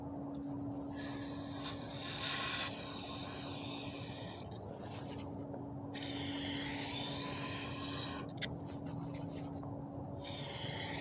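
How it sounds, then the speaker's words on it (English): Several bursts of hissing aerosol fogging oil sprayed into the cylinders of a Chevy Cobalt Ecotec 2.2 engine, each lasting a second or two, with short pauses between them over a steady low hum. "So I'm going to spray some fogging oil down the cylinders to help protect the engine"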